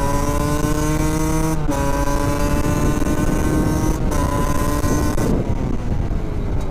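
Two-stroke motorcycle engine with a running fault, revving with a raw, buzzy tone that wavers and chokes for a few seconds, loud and close with no talking.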